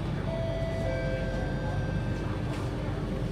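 Steady, loud hum and rumble of an SMRT C830C Alstom metro train running between Bartley and Paya Lebar, heard from inside the car, with faint whining tones and a little background talk.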